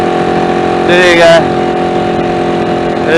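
An engine with a faulty exhaust runs at a steady, loud idle throughout, close up, with a brief voice sounding over it near the start.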